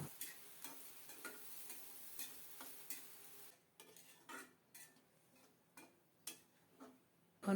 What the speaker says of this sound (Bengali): এদিকে সরিষার তেলে পেঁয়াজগুলো বেরেস্তা করে নেব